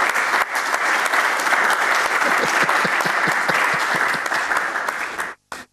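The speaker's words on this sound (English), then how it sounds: "Hene, allow us to give you a round of applause." Dense, loud applause from a sizable audience at a public forum, sustained steadily for several seconds before cutting off abruptly near the end.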